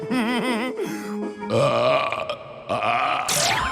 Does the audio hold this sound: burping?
yes